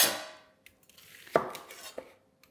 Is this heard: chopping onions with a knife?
yes